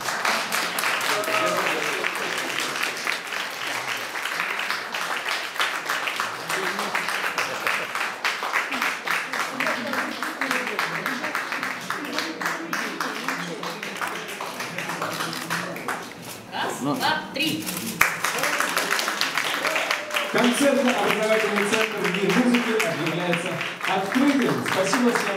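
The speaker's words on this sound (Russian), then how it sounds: "Торжественное перерезание ленты," Audience applause during a ceremonial ribbon cutting at the opening of a concert and education centre, sustained steady clapping over a long stretch, with voices and some background activity mixed in.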